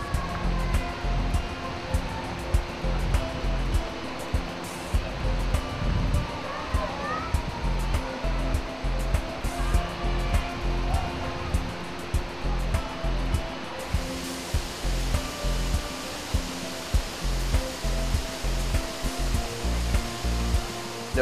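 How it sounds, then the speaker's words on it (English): A waterfall's steady rushing roar, loud and continuous, fills a swimming spot by the falls, with a person talking intermittently over the constant wash of water. "Swim right up to the waterfall."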